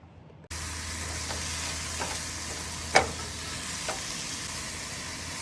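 Meat sizzling in a pan over the coals of a camp stove at a state park, for quesadillas; a steady close frying hiss with a single sharp clink of a utensil partway through.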